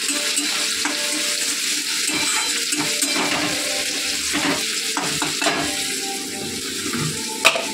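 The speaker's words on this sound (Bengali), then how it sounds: "এ পাশে তেলে পেঁয়াজ দিয়ে দিয়েছি" Onions sizzling and crackling in hot oil, a steady frying hiss with occasional stirring scrapes and clinks of a utensil.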